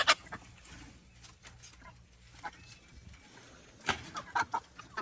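Backyard chickens in a garden coop cluck and murmur: scattered, soft, close-by clucks over a quiet outdoor background, with a few sharper, louder squawks toward the end and no talking.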